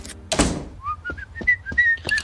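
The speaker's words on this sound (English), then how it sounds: "Homer whistling Peer Gynt" Homer Simpson whistles a short, bouncy run of notes from Peer Gynt. A dull thunk comes first, then the clear, close whistled tune.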